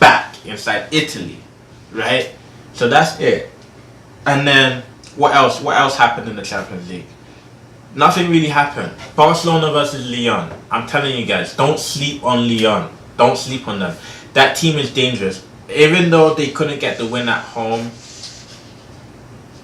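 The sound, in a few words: dog barking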